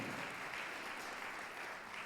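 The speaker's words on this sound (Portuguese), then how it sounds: "Você pode aplaudir a palavra?" Faint, steady applause from a church congregation, sounding distant and soft, continuing evenly for a couple of seconds.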